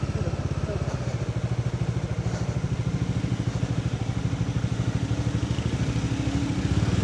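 A Bajaj Dominar 400 motorcycle rides off-road, its engine throbbing steadily and loud up close with a rapid, even pulse throughout.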